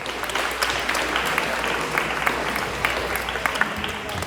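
Audience applause welcoming a speaker to the stage at a chronic pain awareness day event in the Nièvre, France: a dense, continuous wash of many hands clapping, steady and fairly loud throughout.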